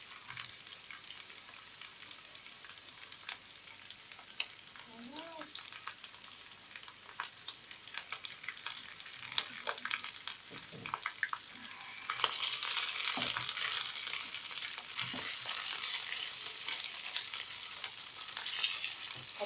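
Meat sizzling in a hot pan while being stirred for an Egyptian tagine, a soft steady crackle with scraping stir strokes that grows louder and busier toward the end; no talking.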